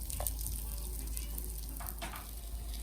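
Eggplant slices for eggplant Parmesan fry in a pan with a soft, steady sizzle and a few faint crackling pops, quiet and close with no talking.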